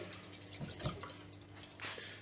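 Water is poured into a mug in a kitchen: a short close splash and trickle, louder in the middle and at the end.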